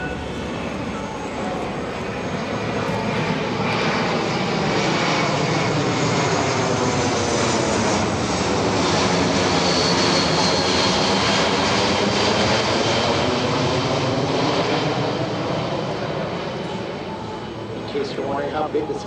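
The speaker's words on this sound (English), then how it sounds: "As the aircraft approaches from your right" Boeing C-17 Globemaster III jet transport flying a demonstration pass at the EAA AirVenture airshow, a loud sustained jet roar that swells as it passes and fades slowly, with a commentator's voice over it.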